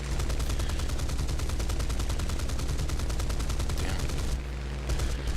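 Rapid aircraft machine-gun fire in the War Thunder combat game, a dense string of regularly spaced shots that runs for several seconds before a brief pause and a short final burst.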